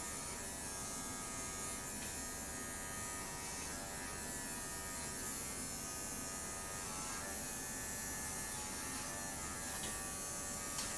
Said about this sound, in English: then use my clipper to edge it in